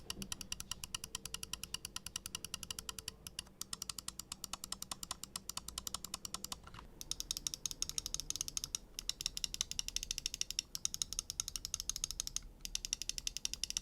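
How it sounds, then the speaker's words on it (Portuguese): A Razer Viper Mini SE gaming mouse with optical switches, clicked in a fast, steady run of sharp, close-up taps that continues throughout. "comparando com o clique do Viper Mini, a gente vai ter uma diferença bem perceptível aí"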